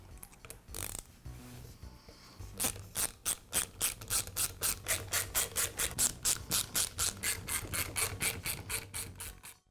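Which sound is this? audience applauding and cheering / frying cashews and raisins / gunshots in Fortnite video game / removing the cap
removing the cap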